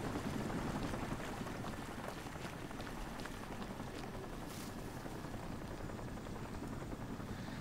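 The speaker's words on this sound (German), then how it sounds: "Ich höre die ganze Zeit einen Heli, aber ich sehe ihn einfach nicht." A helicopter in the video game Crysis, a steady rotor drone that holds without a break for the whole stretch, moderately loud and unseen, with no one speaking.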